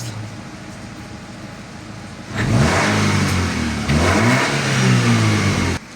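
A car engine idles quietly, then revs hard with a sudden loud surge. It holds high, rising and falling revs up close for several seconds before cutting off abruptly.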